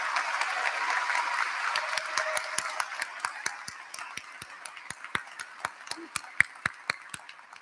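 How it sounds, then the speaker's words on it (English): Applause for student speakers at a 2022 high school graduation ceremony: a broad crowd clapping that thins over time, with sharper individual claps standing out near the end. "Could we have a final round of applause for the outstanding student speakers that we have heard here today?"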